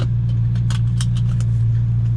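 Loud, steady exhaust drone from a BMW E93 M3 V8 with no muffler or resonator, idling close by as a heavy constant low hum with light ticks on top, no voices.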